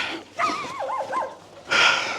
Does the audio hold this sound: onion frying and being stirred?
no